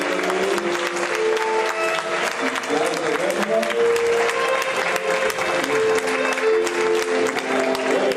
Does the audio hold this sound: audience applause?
yes